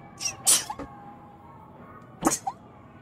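A character sneezes in the dark, eerie Little Nightmares 2 video game, with two short bursts about two seconds apart over a quiet ambient hum.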